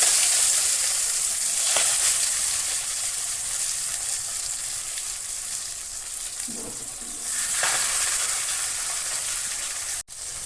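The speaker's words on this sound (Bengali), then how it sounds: "যে কড়াই গরম করতে দিয়েছে দেখো তেল গরম হয়ে গেছে এবার এগুলো আস্তে আস্তে পরে বসিয়ে দেবো" Ash gourd leaves frying in hot oil in a wok: a loud, continuous close sizzle that swells and eases, with a few brief stirring scrapes and a sharp click at the end.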